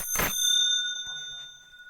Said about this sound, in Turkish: Zil çalışıyor.